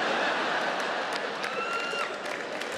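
A comedy club audience at an opening-night all-stars standup show breaks into steady clapping with some crowd murmur, a continuous wash of applause lasting throughout.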